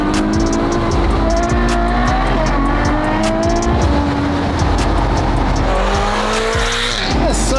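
Lamborghini Huracan accelerating hard with shrill tire squeal, engine rising and dropping through quick gear changes over continuous squealing, loud and close.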